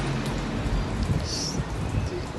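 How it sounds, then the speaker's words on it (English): Steady rain falls in Belize during a cloudy, breezy spell, a dense continuous hiss and patter filling the background with no voices. "So glad to have rain."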